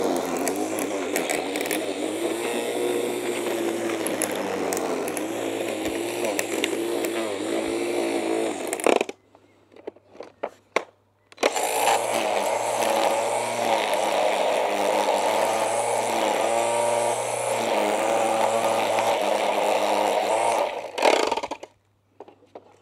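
A Parkside cordless multi-tool trimmer cuts grass with a loud, steady high-pitched whine, running for a long stretch, stopping briefly, then running again before cutting off near the end.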